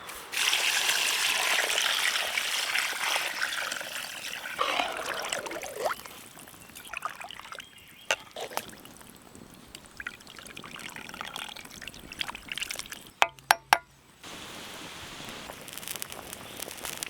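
Water poured into a pot of country chicken for spicy rasam, with a steady splashing pour up close that thins to a trickle, followed by a few light clatters near the end.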